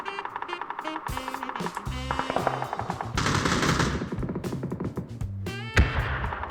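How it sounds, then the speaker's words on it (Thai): Automatic gunfire rings out in the battle royale video game PUBG. Dense, rapid bursts of shots run almost continuously and loudly for several seconds, with no talking. "โอ้ยมีกระสุนแลบมาทางนี้ด้วย"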